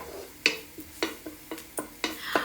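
Shrimp dropped into a pan of frying garlic for pad thai, a series of about seven sharp taps and clinks spaced roughly evenly, each with a brief sizzling tail.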